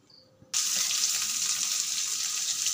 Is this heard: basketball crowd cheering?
no